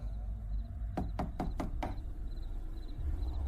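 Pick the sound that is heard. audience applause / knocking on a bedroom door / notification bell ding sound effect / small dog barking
knocking on a bedroom door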